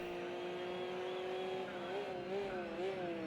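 A front-engined V8 race car in the Project CARS 2 racing game, 1998 FIA GT Championship at the Nürburgring GP circuit, holds a steady loud engine drone whose pitch dips and swells as it changes gear and revs.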